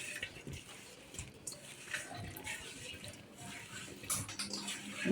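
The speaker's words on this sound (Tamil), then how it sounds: "கொஞ்சம் தண்ணி ஊற்றிக்கலாம், எனக்கு நல்லா கோட்டிங் ஆகும்." Water trickles and splashes as it is poured into a spiced cauliflower batter for chili gobi, a faint, uneven liquid sound with soft kitchen clatter close by.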